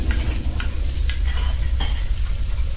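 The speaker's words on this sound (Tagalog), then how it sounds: "Nagpiprito ng itlog matapos makapagsangag ng kanin" Eggs sizzle steadily in a hot pan, a constant crackling hiss with a few soft scraping stirs, close and without voices.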